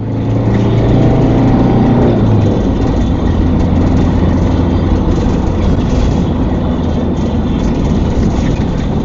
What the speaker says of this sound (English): you can hear the thief caning the motorhome engine